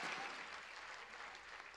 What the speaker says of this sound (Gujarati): સાહેબ, એને તાળીઓથી વધાવો